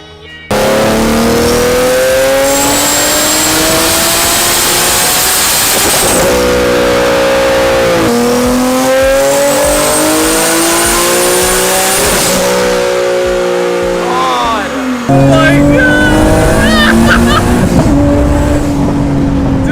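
Turbocharged Nissan 370Z, revved loudly and repeatedly close by; the engine pitch climbs and drops in several sweeping pulls.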